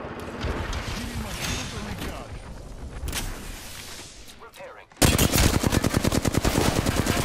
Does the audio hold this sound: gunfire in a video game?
yes